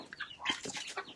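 Chickens cluck in short, close bursts across a backyard coop in Indonesia, several calls overlapping at a moderate level with brief gaps between them.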